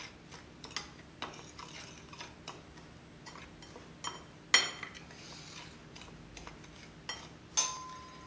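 A spoon ticks and clinks against a bowl while mixing paprika and chopped parsley, a run of light irregular taps with a few sharper knocks, close and quiet with no talking.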